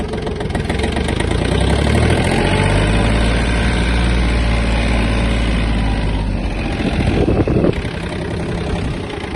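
A Yanmar F-180 Japanese mini tractor engine running close by with a loud, steady chugging drone that rises as it picks up speed in third gear, then briefly surges.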